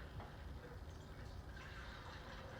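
Liquor poured from a bottle into a margarita machine, a soft, steady trickle and splash of liquid that runs quietly and without a break from start to finish.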